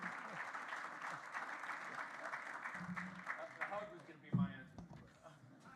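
A conference audience applauds a presenter with sustained clapping from a crowd, while a host's voice talks over it and the clapping swells near the end.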